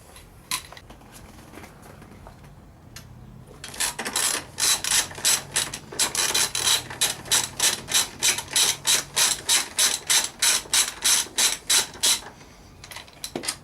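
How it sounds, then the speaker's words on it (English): A ratchet wrench clicks rapidly while loosening fork bolts on a Yamaha MT-07 motorcycle, a close burst of about twenty sharp, evenly paced ratcheting clicks following a few quieter taps and handling sounds. "we're going to loosen the pinch bolt here, which is a 6mm hex key, and then a 19mm to take the spindle out"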